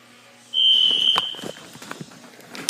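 Home smoke detector sounding during a fire alarm system test: a loud, piercing high-pitched beep held for about a second, followed by footsteps, shuffling and knocks nearby.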